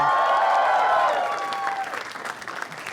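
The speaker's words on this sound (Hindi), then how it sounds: "जोरदार तालियां" Loud applause from a crowd fills the room, steady clapping that gradually thins out over a few seconds.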